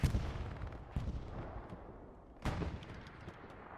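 An anti-tank gun fires in the Hell Let Loose battlefield game, two heavy booming shots about a second and a half apart, each with a long rolling tail, distant and fairly muted.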